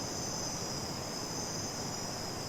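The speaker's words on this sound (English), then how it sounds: "the cicadas, the crickets," Crickets and cicadas chirp in a jungle at night, a steady dense insect drone with a high sustained whine over a continuous hiss, even and unbroken throughout.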